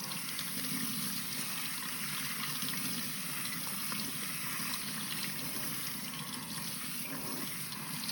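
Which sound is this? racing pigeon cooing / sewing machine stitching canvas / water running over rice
water running over rice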